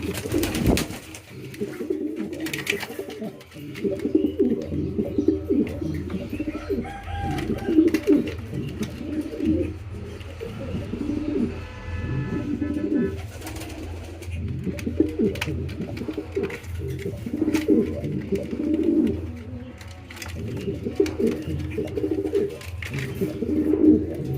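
Pigeons cooing steadily and close by, newly acquired birds with a hen near the cock, repeated throaty coos rolling on through the whole stretch with no talk over them.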